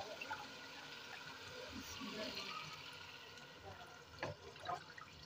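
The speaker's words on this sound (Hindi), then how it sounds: "अब हम इसके अंदर जो है ना पानी ऐड करते हैं।" Water poured into a cooking pot while making aloo matar sabzi in a home kitchen, a steady splashing, trickling pour close by that runs for several seconds with a few louder splashes near the end.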